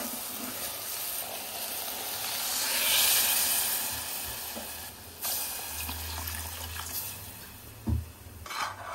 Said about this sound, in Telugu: ఇప్పుడు వాటర్ యాడ్ చేసుకోవాలి